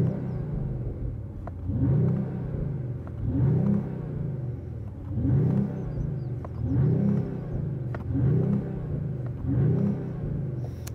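A 2025 Mercedes-AMG CLE53 Coupe engine revs repeatedly against a 4,000 RPM rev limiter, rising and falling in regular pulses about every two seconds, with a steady mid-pitched rumble heard up close.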